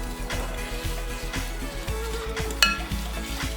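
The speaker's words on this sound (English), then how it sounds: "We'll just mix everything up." Overnight oats mixture with mashed bananas being stirred in a jar, a close series of scraping, clinking strokes in a steady rhythm, with one sharper knock near the end.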